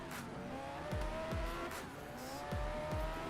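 Race car in a racing video game braking hard, engine note dropping under repeated tire squeals in two quick pairs over a sustained motor drone.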